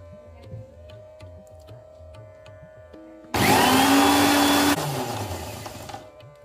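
An electric blender whirs loudly as more oil goes into the mix, a sudden harsh roar kicking in midway, then dropping to a lower, steadier churn that slowly fades. Quiet kitchen clatter comes before it.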